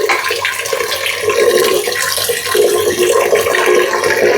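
Tap water runs steadily into a pot as rice water is measured, a continuous hissing splash with no talk over it.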